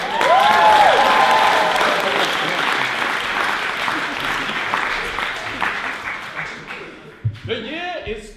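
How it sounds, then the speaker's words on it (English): A theatre audience at a student comedy revue applauds the sound effects performers, with loud clapping and a whoop at the start that slowly thins out. Scattered chuckles and talk come through at the end. "Let's give them a massive round of applause."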